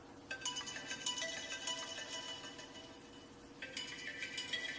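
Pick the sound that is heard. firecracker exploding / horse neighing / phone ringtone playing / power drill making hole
phone ringtone playing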